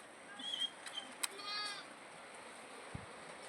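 Goat bleats from a young kid at a rural farm pen, a few short, moderately faint calls scattered across the clip over quiet outdoor background, with a thud near the end.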